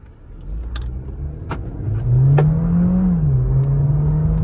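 A car in sport mode accelerates, its engine note rising and holding a steady, strong hum close by, with a few sharp clicks early on.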